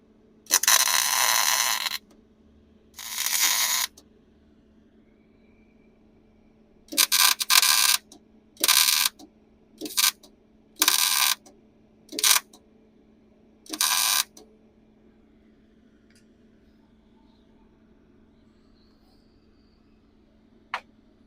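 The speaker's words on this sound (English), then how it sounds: "Excuse me while I weld this." Metal lakepipes on a 1960 Ford Thunderbird are welded in a series of sharp, loud crackling bursts of one to two seconds each, separated by quiet pauses, close by with no talking.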